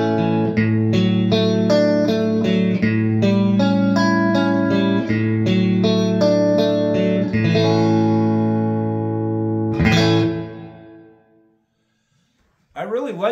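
Electric guitar played through a Bugera V22 Infinium tube combo amp with its reverb on: a run of clean, sustained picked chords with a soft reverb tail, one final strum ringing out and decaying before a brief noise at the end.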